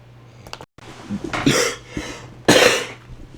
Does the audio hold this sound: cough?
yes